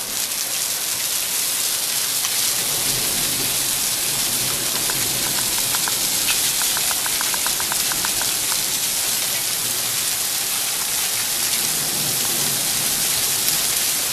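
Hail hammers down hard and without pause during a thunderstorm, a dense, loud drumming on a garden and fir tree that fills the whole stretch.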